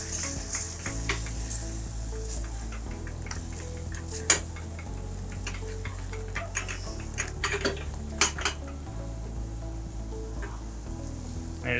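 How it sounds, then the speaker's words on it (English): A spoon stirring sauce in a pan as milk is added a little at a time, with repeated scraping and clinking of utensil against cookware over a low steady background, close and without talk. "A bit of stir."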